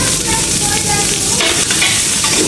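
White onion frying in sunflower oil in a pan, a loud, dense, continuous sizzle with light stirring scrapes throughout, no voices.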